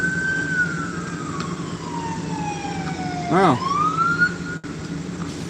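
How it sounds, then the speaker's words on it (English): A local sheriff's police car siren wails as it pulls into a truck stop, a long falling tone sweeping up again with a brief warble burst, loud over steady idling engine rumble; a man briefly exclaims. "he had to put his sirens on to get into the truck stop"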